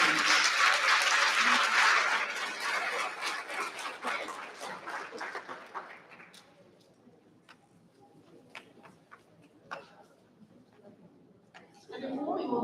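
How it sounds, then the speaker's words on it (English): Audience applause for award recipients at a school board meeting, loud and dense at first, then thinning out over several seconds into scattered claps and quiet room noise before a voice begins. "Can we give one more round of applause for all the school five and grade recipients?"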